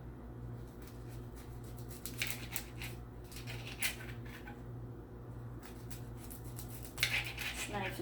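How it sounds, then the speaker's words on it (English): A sharp knife saws through vegetarian sushi rolls in quiet, repeated crunchy strokes that come in short bursts with pauses between them, close up and faint. "Use a sharp knife and cut the rolls"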